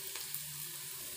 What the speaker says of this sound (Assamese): পাচলিখিনি ভাজি হৈছেগৈ, আৰু 2 মিনিটমান লাগিব।